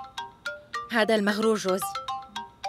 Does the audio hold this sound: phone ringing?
yes